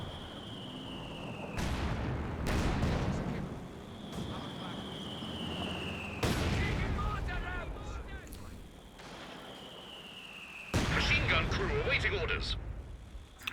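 Anti-tank gun shots in a Company of Heroes 2 match, several loud sharp reports spaced a few seconds apart, each with a rumbling tail, under continuous commentary.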